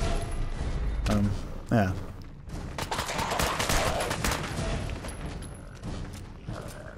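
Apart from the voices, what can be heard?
gunfire shooting a ghoul's leg in the video game Fallout 4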